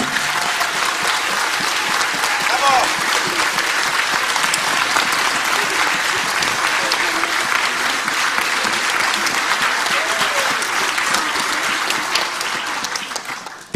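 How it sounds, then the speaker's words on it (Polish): A large audience at a jazz concert of patriotic songs applauds young performers, loud sustained clapping with crowd murmur that holds steady for nearly fourteen seconds before dropping away at the end. "Wielkie brawa dla tych młodych ludzi."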